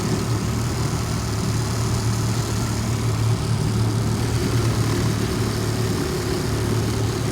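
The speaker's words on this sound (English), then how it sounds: "I gotta let it idle down. I don't want to shift into reverse while the engine's spinning this fast." A 2003 Tohatsu/Nissan 18 hp electric-start outboard engine on a boat idling with a steady, loud, continuous low drone and even rumble throughout, close up, no talking over it.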